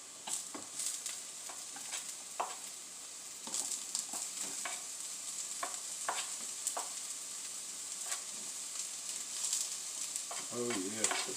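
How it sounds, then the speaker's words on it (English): Onions frying in a pan, a steady bright sizzle with scattered clicks of stirring throughout, close and fairly even, with a brief rising squeak near the end; no talking. "So now this is getting fried up. I'm going to do my onions."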